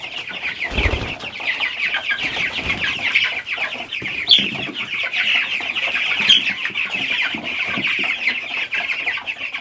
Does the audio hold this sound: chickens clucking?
yes